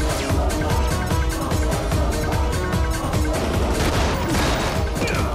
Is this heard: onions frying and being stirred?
no